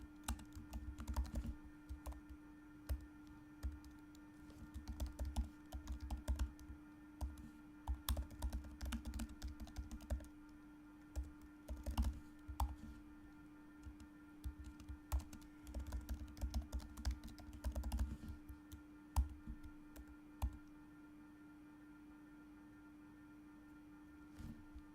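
Code being typed on a computer keyboard during Salesforce trigger programming, with steady bursts of close, quiet key clicks alongside a constant low electrical hum, pausing near the end.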